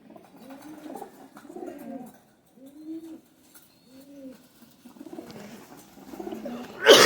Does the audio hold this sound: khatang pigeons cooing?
yes